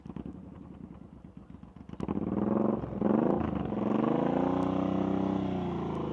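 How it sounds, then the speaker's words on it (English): A motorcycle engine putters and rises as the rider works through a slow-speed U-turn during practice, heard fairly close with a steady mid-range drone after a clattering start. "See how we can hear his engine from here?"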